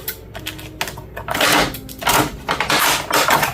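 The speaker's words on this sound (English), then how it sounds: "we're just going to take the handy dandy scissors and undo her here" Scissors snip open the plastic and cardboard packaging of a Mattel Trish Stratus Elite Series action figure, with close, irregular cuts, crinkling and handling noises in short bursts.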